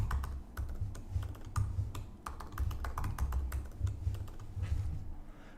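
Quick, uneven bursts of close computer keyboard typing as a password is entered, with crisp individual key clicks and short pauses and no voices.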